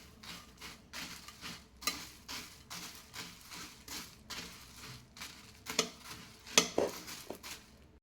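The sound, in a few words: mixing bhel ingredients (puffed rice, corn chivda)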